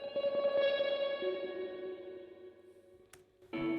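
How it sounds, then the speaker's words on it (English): Sustained guitar notes wash out in a long reverberant tail, fading gradually, then a brief click and a new chord swells in near the end. "we've got some little guitar, just like tremolo notes, soaked in reverb"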